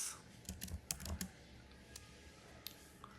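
Fingers type on a computer keyboard in a quiet room: a quick flurry of close keystrokes, then a few scattered taps spaced out over the remaining seconds.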